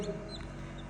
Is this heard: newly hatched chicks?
yes